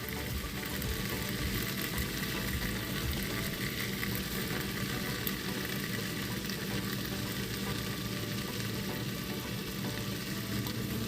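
Continuous loud sizzling and frying as fried onions are stirred into chicken masala for a Thalassery dum biryani, a steady crackling hiss with soft stirring scrapes throughout.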